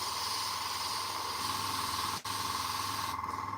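An airbrush sprays paint onto a Warhammer miniature in a steady, close, continuous hiss that runs unbroken apart from a momentary cut, with no talking.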